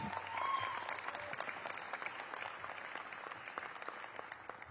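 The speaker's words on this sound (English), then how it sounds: "So give her a big round of applause." A crowd applauds a city economic development official at a mayoral announcement of a new regional medical center in Ward 8, with sustained, fairly even clapping from many people that gradually softens toward the end.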